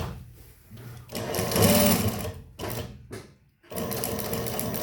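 Juki DNU 1541 industrial sewing machine with a servo motor stitching felt and leatherette using heavy thread on a long stitch, running in several loud bursts broken by brief pauses and quiet mechanical clicks, with no voices.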